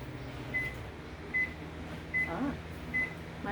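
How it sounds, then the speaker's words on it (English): A microwave oven in a home kitchen gives four short, evenly spaced beeps to signal it has finished, clear over a quiet background hum. "Microwave just went off."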